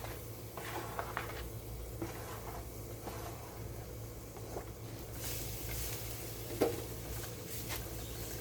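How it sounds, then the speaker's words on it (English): Garlic hitting shimmering hot olive oil in a pan gives a steady close sizzle with scattered crackles and one sharper pop near the end, with no talking. "our olive oil now has a shimmer, so we're going to add our garlic to the pan."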